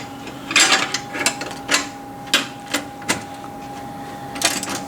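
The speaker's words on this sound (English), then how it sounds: "you're going to want to tighten all 4 bolts using your 5/16 Allen head ratchet" A 5/16 Allen head ratchet tightens bolts on a purger retrofit, giving a series of short, sharp metallic clicks and knocks at an uneven pace over a steady background hum, close by and with no talking.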